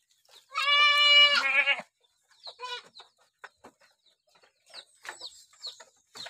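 A goat on a smallholding bleats once, loud and close, and then smaller goat or fowl cries follow sparsely in a quiet barn.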